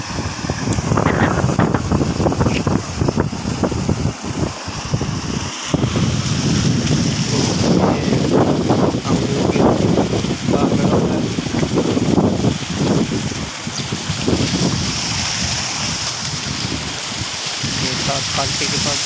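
Strong wind blows by open water in hot sun, with a motorcycle parked at the bank, a continuous loud rushing and buffeting with microphone wind noise, and someone talking over it throughout.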